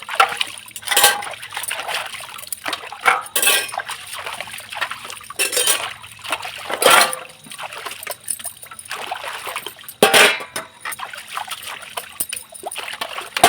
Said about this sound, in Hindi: तो चलिए यहाँ पर बर्तन को मैं धुल लेती हूँ